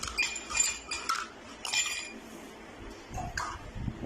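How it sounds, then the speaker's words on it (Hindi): Ice dropped into a glass of phalsa sharbat, a refreshing summer drink, with a run of bright clinks and rattles that fade, then a softer clunk near the end, close and alone. "अभी हम बर्फ़ डालेंगे गिलास में।"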